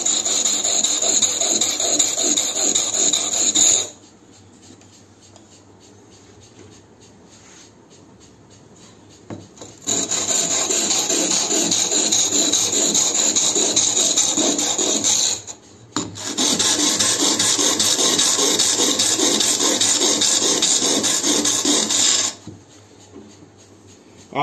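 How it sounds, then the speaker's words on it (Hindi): Steel cutting tool edge being sharpened on a sharpening stone, long continuous rasping strokes in three loud sustained bursts separated by quiet pauses, close up and alone. "हम पथरी की मदद से बिल्कुल इसकी पैनी कर देंगे"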